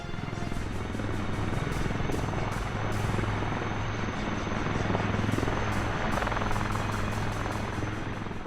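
Indian Air Force Prachand multi-role Light Combat Helicopter, its rotor and engine roaring loudly and steadily throughout, close and continuous with no talk over it.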